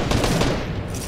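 Rapid bursts of gunfire in a matchmaking battle-royale video game rattle densely through a short moment, loud and continuous, with no talking.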